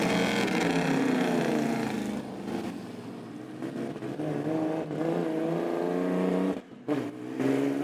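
A vintage Formula 1 car engine burbles at low RPM as it pulls out of the Silverstone pits, a steady harmonic drone with slight revving swells, close and loud, dipping briefly near the end.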